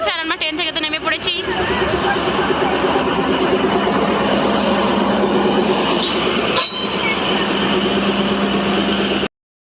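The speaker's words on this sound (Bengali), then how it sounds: "দেখো এই যে ট্রেন ছেড়ে দিয়েছে" A train pulls away from a station platform, its steady rumble and rolling wheel noise continuing close by under a crowd's chatter and voices, with a brief squeal or horn-like tone near the start.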